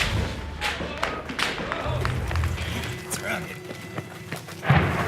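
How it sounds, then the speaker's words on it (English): Sniper and rocket fire in an active combat zone, with bullets striking walls nearby: scattered heavy thuds and sharp impacts arrive irregularly under ongoing voices, and one louder boom lands near the end. "there's bullets pinging on the walls around us"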